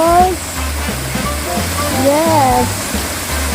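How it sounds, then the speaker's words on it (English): A waterfall at Hong Kong Wetland Park pours in a steady, full rush of water, loud and close, with faint bird calls and a brief voice mixed in. "the second view here in Wetland Park is the waterfalls"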